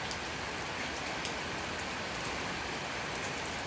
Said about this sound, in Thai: สายฝนก็ยัง หล่นมาเรื่อยๆ